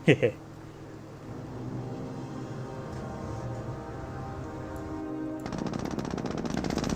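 MG42 machine gun firing in the strategy game Company of Heroes, heard as a steady, distant rattle of rapid fire that grows denser near the end, with someone talking over it.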